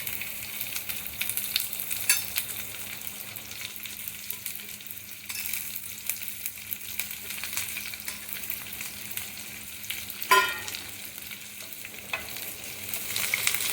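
Chopped garlic and onion fry in oil for a cluster beans dish, giving a continuous bright sizzle with occasional faint stirring scrapes, close and steady, with no talking.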